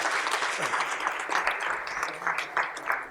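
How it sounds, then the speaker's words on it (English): Applause from an audience at a city neighborhood council workshop honoring restaurant staff, a steady, moderately loud wash of many hands clapping throughout with no break. "Give them a round of applause."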